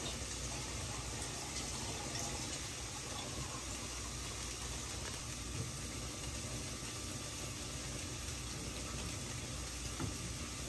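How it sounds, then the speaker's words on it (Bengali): A mug of water poured into a thin Bengali-style mrigal fish curry with potatoes, heard as a steady, broad rushing wash with faint bubbling that holds evenly throughout. "এখন এখানে দিয়েছে 1 মগ জল"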